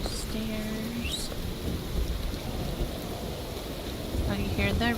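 Steady video game rain patters on a copper roof with a thin tinny ring, a faint rumble underneath and a few brief tonal chirps.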